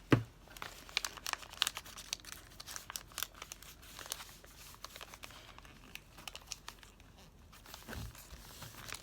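Paper is folded over during a cut-and-glue craft session, producing close, faint crinkling and rustling with scattered small crackles and a few sharper handling noises, no talking.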